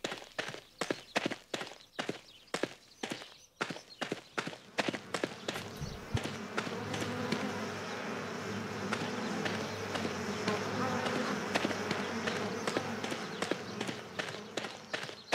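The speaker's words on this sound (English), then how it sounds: "I guess that's where the bees are." Insects buzz in a forest area of the game Forest Ranger Simulator: a sustained droning hum that swells and holds steady after a string of sharp rhythmic thuds, like footsteps, in the opening seconds.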